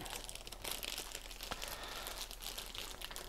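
Plastic packaging around a GoPro Hero 9 battery crinkles and tears in steady, close, fairly quiet rustling.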